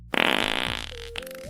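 Fart sound effect, a loud, buzzy, sputtering blast that starts abruptly and slowly fades over about a second, followed by a short squeaky tail.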